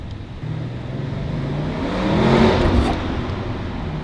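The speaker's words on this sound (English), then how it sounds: "The downshifts sound really nice with the turbos." An Audi RS6 wagon's turbocharged engine hums and builds into a throaty rise with a whooshing turbo whir on a downshift, then settles back, heard close and steady throughout.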